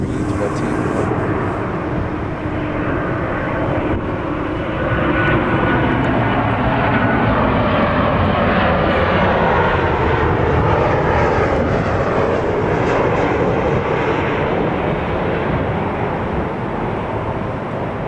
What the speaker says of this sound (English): we do have an A320 being pushed back